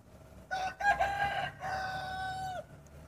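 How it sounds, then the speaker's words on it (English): A rooster crows twice, close and clear, at a large modern layer farm holding hundreds of thousands of chickens, with a faint hum of the farm in the background. "it seems that you can hear the voice of chicken crowing"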